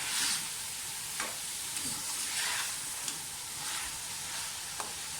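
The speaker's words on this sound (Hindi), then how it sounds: "फिलहाल इसको थोड़ा सा भूनें कि मक्खन जो है, ऑयल जो है वो बिल्कुल एक साइड से आ जाए।" Mutton pieces frying in butter and oil for namkeen gosht give a steady soft sizzle, with occasional scrapes of a spoon stirring the pan, fairly quiet and close, with no talking.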